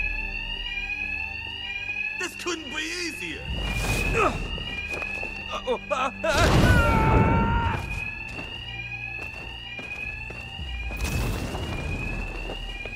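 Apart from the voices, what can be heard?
alarm blaring in video game Batman: Arkham Knight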